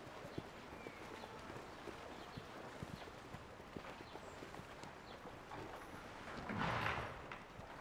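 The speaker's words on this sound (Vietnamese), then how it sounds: "Cẩn thận đừng để chân ngựa dậm trúng nha con." Horse hooves clip-clop in a steady run of soft, evenly spaced knocks at moderate distance, with a brief louder rustling swell near the end and no talking.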